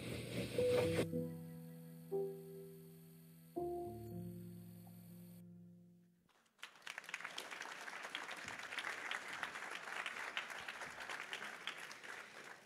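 Audience applause at a cancer assistance program gala, a steady wash of many clapping hands that starts abruptly after a musical passage and carries on evenly for several seconds, fairly close and full.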